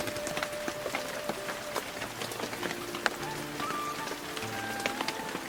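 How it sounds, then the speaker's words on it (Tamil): Rain falling steadily in a forest at Kodaikanal, a dense patter of drops with sharp ticks on leaves and wood, alongside faint low background tones. "அப்பன்னு பார்த்து மழை வந்துருச்சுங்க."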